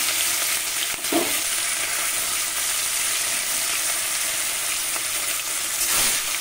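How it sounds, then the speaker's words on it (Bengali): Pieces of rohu fish fry gently in mustard oil in a kadai, making a dense, continuous close sizzle. A couple of soft knocks break through. "আমি মাছ কটা এবার ভেজে নেব।"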